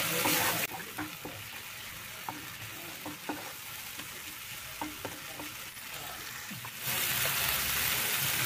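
Tomato paste fries in a pan for mushroom curry, a continuous close sizzle broken by regular soft scrapes and taps of a stirring spoon, the hiss swelling louder at the start and end.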